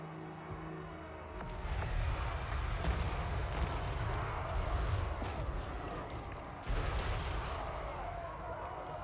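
Cannon artillery bombardment in a strategy video game campaign, with repeated booming shots and crackling impacts rolling over a dense rumbling battle din, mid-loud and continuous.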